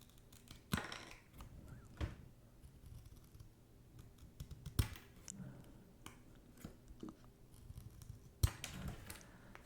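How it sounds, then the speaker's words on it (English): Scissors snip through NBA player trading cards in sharp, separate cuts spaced every second or two, close and crisp against a quiet background, with small rustles and handling clicks between cuts. "Need some cards to cut up, get those cutting sounds."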